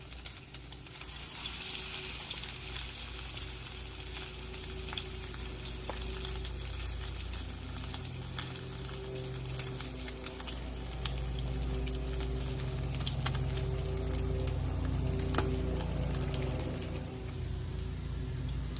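Eight pieces of food sizzle steadily in a hot pan, a dense continuous crackle and hiss with scattered pops, close by and with no talking.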